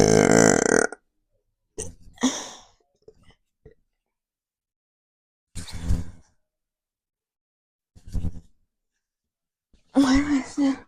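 Several loud, deep burps from a man, broken up by silent gaps, with the longest bursts at the start and the end. A shorter croak sits between them.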